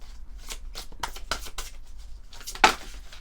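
Tarot cards of a fairy deck being shuffled by hand in a quick run of riffling, papery bursts, close and fairly loud, with no talking over it.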